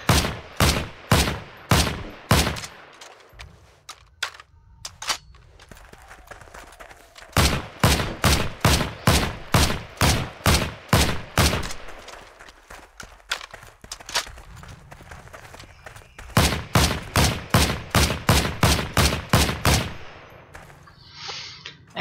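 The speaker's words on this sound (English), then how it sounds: "the reload sound has also received a small overhaul. You can hear that it's definitely different" A G43 rifle and other guns in the Heroes & Generals video game, firing in loud, rapid, evenly spaced volleys with pauses for reload clatter and clanks in between.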